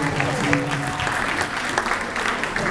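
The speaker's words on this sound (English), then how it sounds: "Can you give her a round of applause for being such a big support?" Guests at a hair salon grand opening in Leesburg clap together, a close, busy patter of hands that runs throughout, with a voice speaking faintly beneath the applause.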